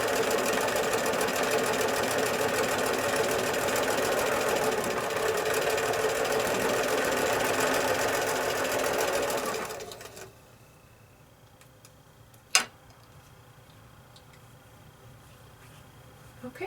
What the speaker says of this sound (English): So just slide it under the foot right next to the needle and stitch down.